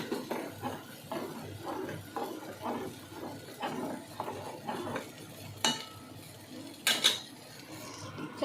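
Rice and lentils for khichuri go into a pot of fried spices: scraping and clinking of a metal spoon against the pot, with soft stirring strokes and a faint sizzle, plus a few sharper knocks near the end.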